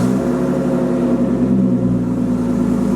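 A Nissan R33 Skyline with its RB engine and a louder exhaust holds a steady, droning rev, a continuous low rumble with a buzzy edge and no speech.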